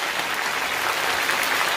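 Okra frying in hot oil on a high flame, a loud, dense, steady sizzle that fills the short clip without any talk.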